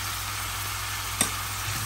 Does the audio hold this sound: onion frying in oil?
yes